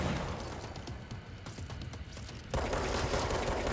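Rapid explosive gunfire from the video game Control, a dense, continuous rattle of shots with booming impacts that grows noticeably louder and fuller partway through, playing without any voices.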